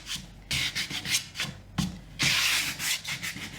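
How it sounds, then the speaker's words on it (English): An electric sander's corner edge works over the painted lettering of a wooden sign, giving bursts of close, gritty rubbing that start and stop in short strokes, with one longer steady pass in the middle. "I'm using the corner edge of my sander, going through some of my letters."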